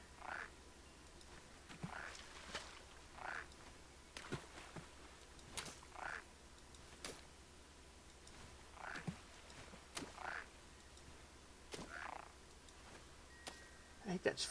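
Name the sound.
frog croaking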